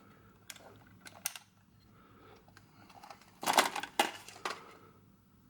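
A Cosina HDL 765 Super 8 film camera is handled and loaded, with faint scattered clicks and taps, then a louder cluster of mechanical clatter as the lid closes and the motor briefly runs.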